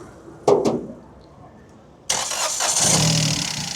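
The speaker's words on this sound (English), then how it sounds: "So this is the first start" A PSA 1.2 car engine cranks on its first start after a wet timing belt replacement: two short starter bursts, a pause, then the engine catches and settles into a steady, loud idle.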